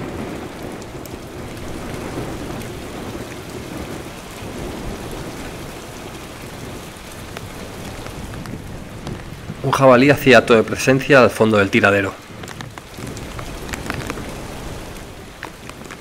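Heavy rain pours down during a wild boar hunt in Abenójar, a steady hiss throughout, while someone narrates in Spanish for a couple of seconds partway through.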